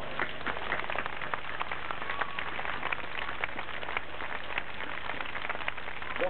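Sustained audience applause for athletes at a historical reenactment festival in 1995, dense steady clapping from a large crowd, even and unbroken from start to finish.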